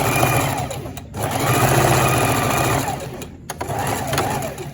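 A sewing machine stitches a label onto clothing with a loud, continuous mechanical whir close by, briefly pausing twice before starting up again.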